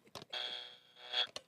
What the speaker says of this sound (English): Do you need one of these buzzers?